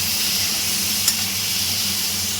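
Quartered tomatoes and garlic roasting in oil in a pan for ridge gourd chutney, giving a steady, even sizzle with one small clink partway through.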